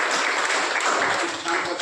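A full audience claps together in a continuous wash of applause at a classroom orientation session, loud and even over its whole length.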